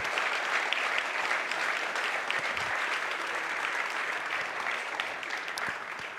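An audience at a water conference on World Water Day applauds, a steady, dense wash of clapping that holds even and fairly loud throughout, with no talk over it.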